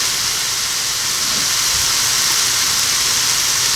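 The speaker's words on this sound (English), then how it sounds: "We're searing all that goodness that coated on the outside." Boneless leg of lamb searing in a hot pan, a loud, steady sizzle with constant broadband hiss, close and uninterrupted, with no speech.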